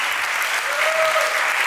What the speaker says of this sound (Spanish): Denle un fuerte aplauso, por favor, a Daniel Sosa,